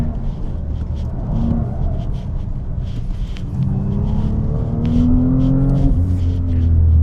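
Audi RS5 engine pulling hard in third gear, a loud continuous rumble whose pitch climbs steadily through the run, heard from inside the car with no talk over it.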